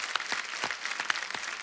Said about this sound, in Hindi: तो हमारे डॉक्टर्स के लिए एक बार जोरदार तालियां